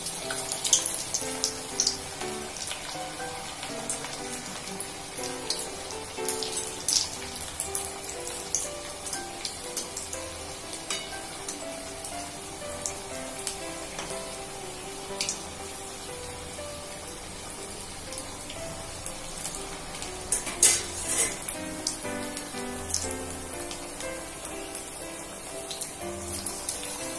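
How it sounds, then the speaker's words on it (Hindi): Bread mendu vada sizzle and crackle in hot oil over low heat, a steady dense fizzing with scattered sharper pops throughout, close and continuous. "तेल रेडी है, गरम है। बस हम इसमें वड़ा डाल लेते हैं।"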